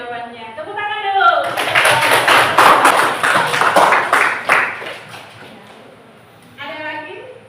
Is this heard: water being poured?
no